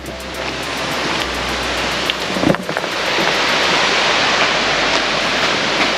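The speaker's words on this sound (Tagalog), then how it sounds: "Ang agos ng tubig." River water rushes by waterfalls at a rafting spot, a loud, steady broadband roar close to the microphone with a brief knock partway through and no speech.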